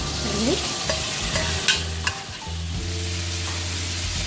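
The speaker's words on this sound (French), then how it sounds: "Faites chauffer une poêle avec une cuillère à soupe d'huile à feu vif et ajoutez les morceaux de bœuf." Beef pieces frying in a pan of hot oil over high heat, a close, constant sizzle with scraping stir sounds and a few clinks, loud and without any talking.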